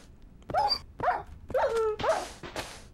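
A Minecraft dog gives four or five short, sharp barks and yips in an uneven rhythm, close and loud, with no talking underneath.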